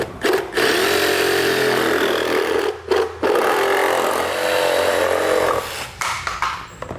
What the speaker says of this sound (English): So we're just going to trim it with our reciprocating saw straight down here.